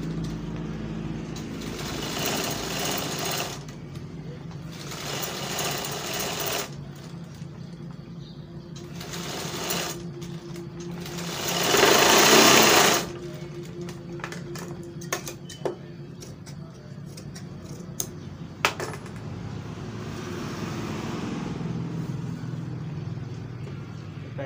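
A sewing machine stitches Paithani embroidery in several short bursts with pauses, plus a louder run midway and scattered clicks and handling noises, quiet and close.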